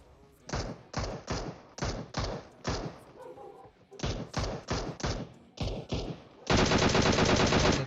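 Gunfire in the mobile battle-royale game PUBG Mobile comes as rapid bursts of sharp shots in quick clusters, followed by a sustained, loud automatic volley at the end. A player speaks during parts of the shooting.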